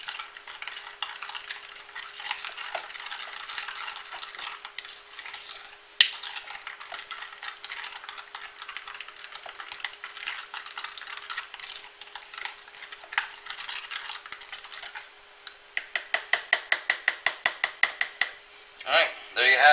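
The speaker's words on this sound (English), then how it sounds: "You just want to mix it up, get all the chunks of the brown sugar out of there" A spoon stirs a ketchup and brown sugar meatloaf glaze in a bowl, a steady close scraping and swishing that turns into quick rhythmic clinks against the bowl near the end.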